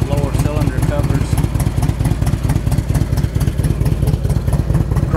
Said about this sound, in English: This bike's got a real good sound to it. That engine sounds strong.